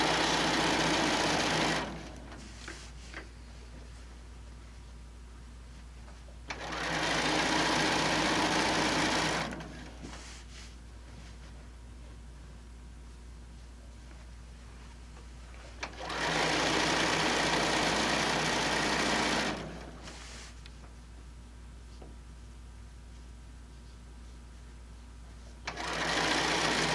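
A sewing machine stitches along the edge of a quilt made from a Cabin Fever pattern and panel, running in three loud, steady bursts of several seconds each, separated by quieter pauses with faint background hum.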